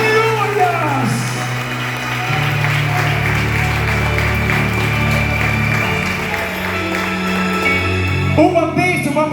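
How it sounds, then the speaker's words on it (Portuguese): Congregation applauding in a church during a Portuguese-language sermon, sustained clapping that runs through the whole stretch over a held organ-like tone, with voices audible in the mix. "aplaude e glorifique o Senhor"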